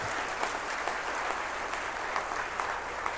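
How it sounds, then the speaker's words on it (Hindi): Steady audience applause at a Bihar cultural event honouring Atal Bihari Vajpayee, a dense, even patter of many hands clapping at moderate volume without pause. "अटल जी के लिए बस इतनी ही तालियां ना,"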